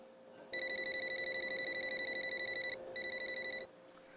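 A loud electronic alarm clock beeps at 4 a.m. in a rapid, steady pulsing pattern, pausing briefly before resuming, then cutting off.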